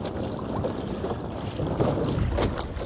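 Small 3 hp outboard on a modular three-piece fishing boat running at half throttle, a steady low drone mixed with heavy wind buffeting the microphone, continuous and close.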